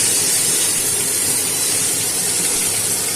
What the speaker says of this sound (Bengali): তেলটা গরম হয়ে গেছে, এবার এর মধ্যে আমি 5 ফোড়ন দিয়ে দিলাম আর দিলাম দুটো, এই দেখুন দুটো কাঁচা লঙ্কা।